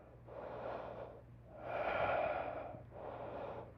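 Slow, deep breaths come close during a gentle yoga flow, drawn out in three long airy swells, inhale and exhale, with no talking.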